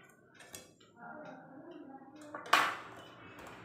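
Vattayappam, a soft steamed rice cake, being lifted out of its cooking vessel, with quiet scraping and handling followed by one sharp metallic clink of the pot at close range.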